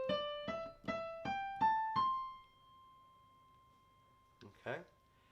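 Piano playing a right-hand phrase from the solo of a song: six clear notes climbing step by step, the last one ringing out and fading, then a short burst of speech at the end.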